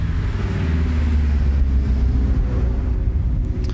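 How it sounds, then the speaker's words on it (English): A Dodge Charger speeds down a residential street, and its engine makes a loud, steady rumbling roar that holds throughout. "That dude was doing like 100 miles an hour down this residential street."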